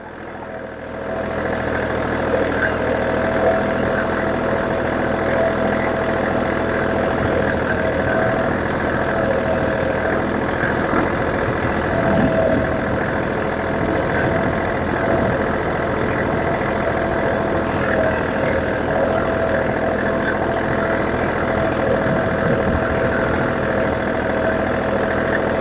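A tractor engine idles steadily and loudly at close range while swales are built, a continuous rumbling drone with a slight knock and no pauses.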